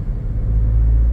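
Toyota Innova engine idling along in third gear at low RPM, a steady, close low rumble with a smooth, even drone and no talk over it.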